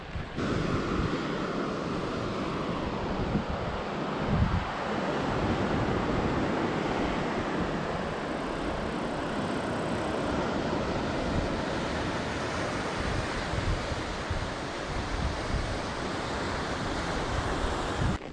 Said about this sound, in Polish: Ciepło i wieje.